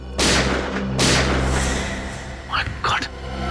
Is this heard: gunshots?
yes